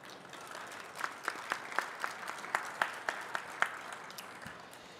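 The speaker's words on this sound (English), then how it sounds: "I'd love to give them a round of applause" Modest applause from a convention audience at the American Farm Bureau gathering, with a soft wash of clapping punctuated by distinct, louder individual claps in a loose rhythm, fairly quiet and thinning toward the end.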